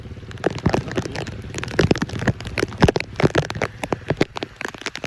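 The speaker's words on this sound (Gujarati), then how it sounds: "ફૂલ વરસાદ ફૂલ રાતનો વરસાદ ચાલુ જ છે" Rain pours down steadily, with dense, irregular drops pattering and crackling on a nearby surface.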